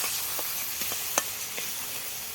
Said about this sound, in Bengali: তেলটা ছেড়ে দিই, একটু মশলাটা ভাজবো